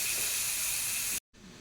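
Water poured into a hot pan of adobo tilapia sets off a loud, close, steady hiss that cuts off abruptly, then returns as a fainter sizzle.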